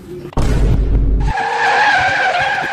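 A car skids on the road with a sudden loud burst of tire noise, followed by a sustained high squealing and engine roar that stays loud throughout.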